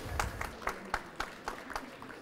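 Sparse applause at a college veterans center grand opening, a few hands clapping in an uneven rhythm of separate claps, fairly faint and close.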